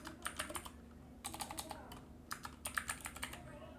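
Text is typed on a computer keyboard in three quick bursts of light, close clicking keystrokes separated by short pauses, with a soft hum in the background.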